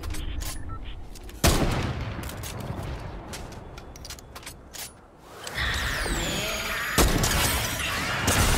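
Fortnite gunfire rings out in sharp, loud cracks. Several single shots are spread over the first half, followed by a denser burst of firing, metallic clanks and game effects later on.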